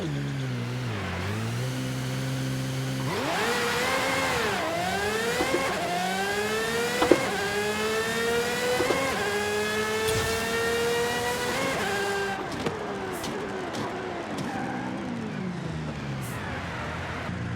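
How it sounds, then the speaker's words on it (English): Aston Martin Valkyrie AMR Pro in Forza Horizon 5, its engine revving hard and climbing through rising gear pulls with shrill high-pitched harmonics, loud and close, with a few quick shifts and no talk. "This is the Aston Martin Valkyrie AMR Pro. And it is one of the best sounding cars I have ever heard"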